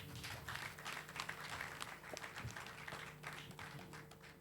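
Applause from an audience at a health presentation, dense and steady clapping heard faintly and at a distance, continuing throughout without talk.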